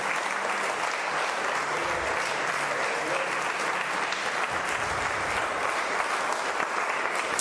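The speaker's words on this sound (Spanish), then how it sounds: "Demos un aplauso al Señor." A church congregation applauds during a sermon, with loud, continuous clapping from many people filling the whole stretch at an even level and no voices standing out.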